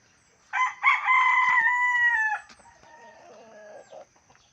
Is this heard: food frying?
no